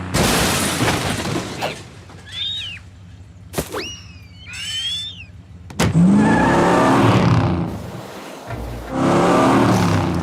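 Cartoon car doing donuts in a jungle, engine revving and roaring loudly in bursts, broken by whistle-like squeals and a sharp crash-like hit, with a busy animated soundtrack throughout.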